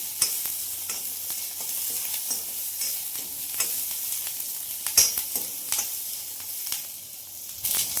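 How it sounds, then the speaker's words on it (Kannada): Ingredients sizzle steadily in hot oil in a pan while a spoon stirs and scrapes at irregular intervals, close and clear with no voices. "ಚೆನ್ನಾಗಿ ಫ್ರೈ ಮಾಡ್ಕೋಬೇಕು."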